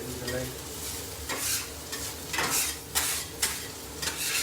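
A smash burger topped with melting cheese slices and onions sizzles loudly on a griddle, a continuous close hiss broken by repeated metal spatula scrapes and knocks.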